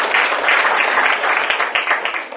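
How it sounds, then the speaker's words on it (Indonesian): Audience applause at a corporate event, a dense burst of many hands clapping together that stays steady before thinning slightly toward the end. "tepuk tangan buat Prudential"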